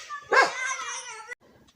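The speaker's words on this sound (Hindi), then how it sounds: "कभी इधर को भाग रहा है, कभी इधर को भाग, तब भौंक रहा" A single sharp dog bark rings out loudly and close, followed by a short fading tail, during a night scene where a leopard threatens near a temple and children sit around a fire.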